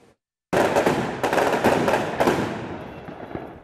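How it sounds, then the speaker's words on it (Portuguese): Fireworks bursting in the early morning at the Romaria do Divino Pai Eterno pilgrimage celebration: a sudden loud barrage of rapid crackling bangs that thins out and fades into a faint tail. "Nas primeiras horas da manhã, os fogos anunciavam o retorno à Romaria do Divino Pai Eterno"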